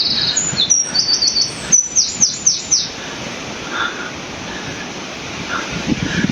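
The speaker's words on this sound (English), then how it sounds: "Lovely listening to the birds," Several birds chirp and tweet in bright bursts early on, with a crow-like call, heard outdoors on a quiet nature walk with a dog; afterwards only soft ambient hush with faint distant calls.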